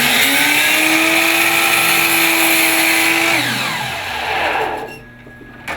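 Miter saw in a woodshop cutting a block of wood: a loud, close motor whine holds steady, then drops in pitch as the blade bites and spins down, ending in quiet.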